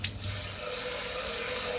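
A tap runs warm water in a sink for washing doll clothes, a steady close gushing stream with no voices.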